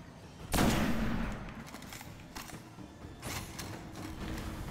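Gunfire in the Destiny video game as the player shoots a sniper: a loud close blast followed by a rattling burst of shots and some fainter follow-up fire, with no talking.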